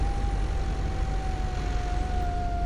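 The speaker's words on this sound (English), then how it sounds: "Oh, two police cars here in town." A police car siren wails steadily in town, loud and continuous, with a sustained tone sweeping slightly and no voices over it.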